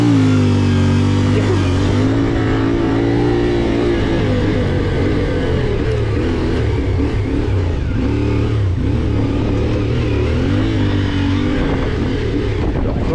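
A CFMOTO Ibex 450 motorcycle engine in off-road mode revs and drones loudly at close range, rising and falling as it accelerates over rough ground on an intermediate enduro track.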